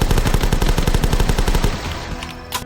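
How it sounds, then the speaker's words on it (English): Rapid machine gun fire from the zombie video game The Last Stand rattles in a fast, steady burst for about two seconds, loud and close, then breaks off into a faint mechanical clatter. "look, a machine gun."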